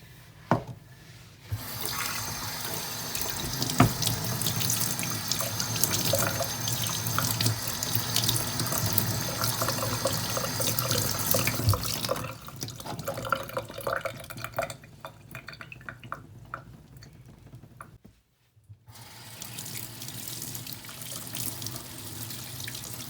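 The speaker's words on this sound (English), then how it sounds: "Now you can wash it with clear detergent." Water runs steadily from a tap into a bowl as a fabric face mask, dyed pink with avocado, is washed with clear detergent; the flow is loud and continuous, dropping away briefly near the end before resuming.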